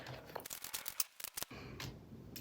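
Tarot cards are pulled and shuffled from the deck, quick papery slides and flicks close by in a quiet room.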